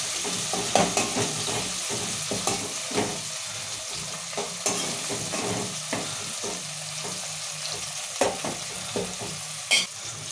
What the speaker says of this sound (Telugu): ఇప్పుడు ఇవన్నీ టమాటలు మెట్టుకాలన్నీ కలుపుకోవాలి మంచిగా టమాటాలు మగ్గిపోతాయి